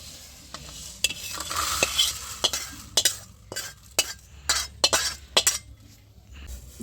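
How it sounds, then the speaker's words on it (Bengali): Spices are fried in a pan with oil, sizzling steadily as a spoon stirs and taps against the metal in sharp, repeated clinks close by. "এগুলো ভালো করে ভেজে নিতে হবে দেখো মশলা কিন্তু ভালো করে ভাজা হয়ে গেছে"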